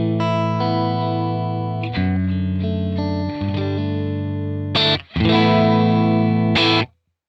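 Electric guitar played through a Tonex capture of a Matchless Independence 35 amp, ringing out sustained, distorted chords with chorus-like shimmer, a brief break near the end, then a final loud strummed chord that cuts off.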